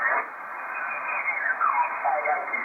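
Ham radio receiving a distant station from Spain, a narrowband, band-limited signal with faint warbling tones and hiss, steady and quiet with no clear voice.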